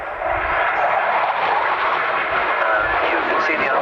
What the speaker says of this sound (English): You can see the afterburners when they're on. You'll see the flames coming out the back of the engines.